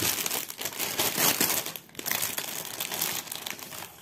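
Plastic packaging of a cross-stitch kit being opened crinkles and crackles loudly and continuously up close, with a brief dip partway through and no speech.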